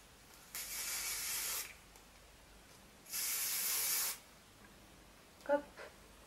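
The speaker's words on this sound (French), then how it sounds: "je viens fixer pour terminer toutes les petites mèches avec le spray fixant Bamboo Style" Bamboo Style fixing hairspray misted onto hair while styling a voluminous bun: two steady hissing bursts, each about a second long, close and fairly loud, followed by faint handling sounds.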